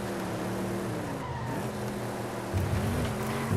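A Subaru WRX in a racing video game, with a steady engine drone and a thin tire squeal running under it, and a rise in engine pitch near the end.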